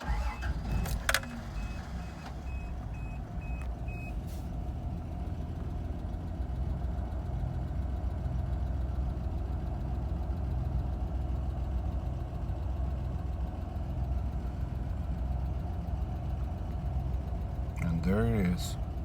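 A 1987 Toyota Land Cruiser FJ60 with a pulled choke settles into a steady, even cold idle, the engine running continuously at close range, with brief key jingles and clicks at the start and end.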